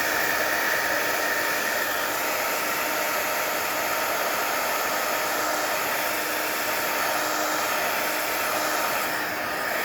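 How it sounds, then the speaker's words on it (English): A crafting heat tool (heat gun) blows hot air in a steady, loud, continuous whoosh with a high whine, unbroken for about ten seconds. "As my heat tool gets hotter and hotter, it'll go faster."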